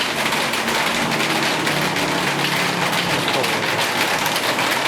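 Steady rain hisses across the whole stretch, a dense, even wash of falling drops with no breaks and no other sounds standing out.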